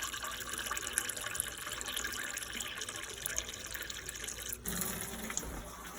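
Water runs steadily from a kitchen filter tap into a sink or container, a close, continuous splashing hiss with a brief dip midway and no talking.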